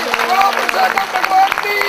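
Applause at a Swaminarayan centenary festival gathering in Bakrol, a short burst of crowd clapping heard alongside voices and musical tones.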